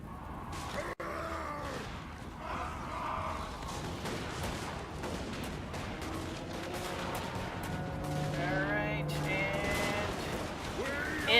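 Dwarf quarrellers fire a crossbow volley in the fantasy battle game Total War: Warhammer, producing a dense, continuous clatter of many shots over battlefield din, with groaning voices and crashes layered throughout.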